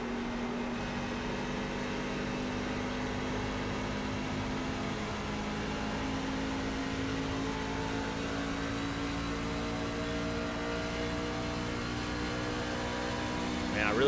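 Race trucks on fresh tires roar past at Homestead-Miami Speedway in iRacing, a steady engine drone with layered harmonic whine that holds throughout and swells near the end.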